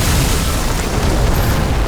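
A flooded transformer catching fire explodes in a video game cutscene, a loud, dense roaring burst of broadband rumble and crackle that fills the whole moment without pause.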